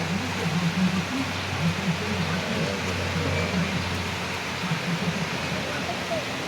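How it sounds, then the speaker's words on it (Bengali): Steady rain falls in a continuous hiss, even and unbroken, with faint low voices murmuring underneath. "দেখো বৃষ্টি কিন্তু পড়তেছে"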